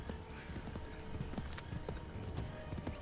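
Horse hooves clip-clop in Assassin's Creed III, a quick irregular run of hoofbeats under faint game ambience.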